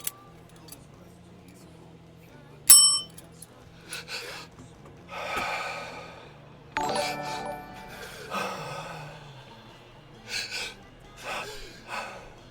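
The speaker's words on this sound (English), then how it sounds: "On the sound of the bell." A bell rings once early as a cue during a live streamed show, a bright, short ringing strike followed by rhythmic breathing, soft gasps and exhales in a quiet room.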